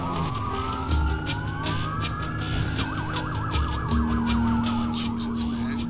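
A police siren in the video game Watch Dogs wails continuously, sweeping up and down before switching to a fast warble, loud and close, with a steady engine hum beneath.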